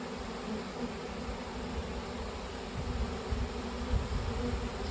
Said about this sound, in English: It's a pretty good sized swarm